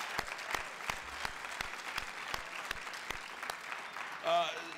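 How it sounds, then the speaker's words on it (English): Audience applause at the closing session of a conference, steady clapping throughout with sharp individual claps standing out, fading slightly near the end where a brief voice-like tone appears. "Let's give him one more round of applause."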